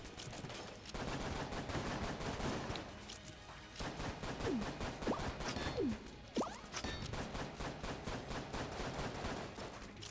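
Rapid gunfire at a boss in Enter the Gungeon, dense stuttering bursts of shots running almost without pause, with a few sharp whooshing projectile sweeps layered over the barrage.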